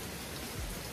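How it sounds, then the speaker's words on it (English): Steady rain falls around a porch, a brief, even hiss of drops striking surfaces at moderate distance with no voices. "I'm just chilling out here on the porch in the rain."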